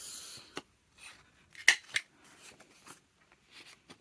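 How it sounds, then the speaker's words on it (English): Scissors trim rounded corners on pieces of book-page paper for a junk journal, several quiet close snips and rustles in short, uneven bursts. "So I'm going to round the corners"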